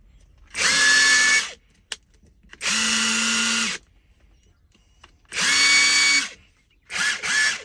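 A Kimo brushless impact wrench runs in four bursts, each about a second long, with a steady high motor whine. Short pauses separate the bursts, and the last is two quick pulses, all close and loud.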